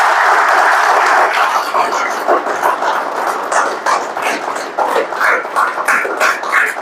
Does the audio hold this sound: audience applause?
yes